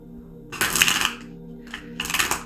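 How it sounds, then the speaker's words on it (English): A deck of tarot cards gets two brisk riffle shuffles, each a dense papery flutter lasting about half a second, close and clear with a short pause between them and no talking. "Let's give it one more big boy shuffle."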